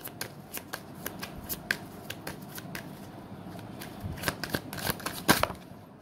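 Tarot cards are shuffled close by in a dense, steady riffle of papery flicks and snaps that builds to a few sharper slaps near the end.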